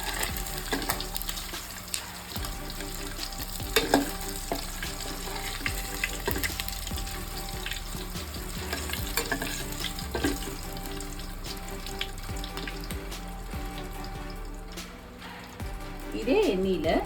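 Oil frying in a pan while cooking kathirikai mochai karuvadu kuzhambu, a Tamil brinjal, field bean and dried fish curry; a steady, soft sizzle runs throughout with occasional stirring clinks, under talk.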